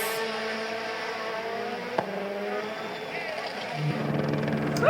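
Rally cars racing side by side at WRC Rally Portugal 2023 make a continuous engine drone that shifts in pitch as they rev, with voices talking over it.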